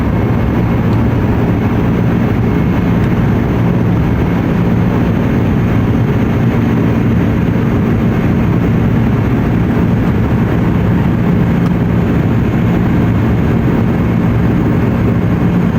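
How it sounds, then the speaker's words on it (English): Steady, loud low-pitched roar of an airliner's engines during takeoff from Peshawar, heard from inside the cabin as a continuous drone with no voices. "Very smooth takeoff, considering."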